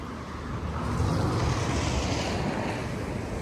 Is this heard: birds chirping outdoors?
no